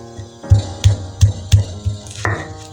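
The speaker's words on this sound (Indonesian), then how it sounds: "untuk awalnya kita ulek dulu bawang putih dan kencurnya" Garlic and kencur pounded with a stone pestle in a stone mortar (ulekan) for Sundanese sambal goang: a series of about six heavy, dull thuds in a steady rhythm, close and clear, with no talking.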